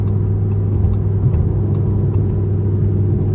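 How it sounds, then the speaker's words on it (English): A 610 hp Audi R8 V10 Plus's V10 engine drones steadily from inside the car while driving, a loud, even low rumble with a faint road hum throughout and no voices. "the sound of this V10 is what really makes this such a desirable car"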